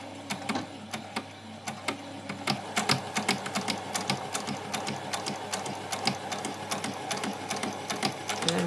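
A sewing machine runs continuously, stitching a seam on a doll's dress, its needle clatter a fast, even rhythm with faint sharp clicks throughout, close by and alone.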